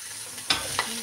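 Vegetables and tofu, with carrots going in, fry in a pan with a steady close sizzle, broken by two quick clattering stirs about a third of a second apart. No one speaks.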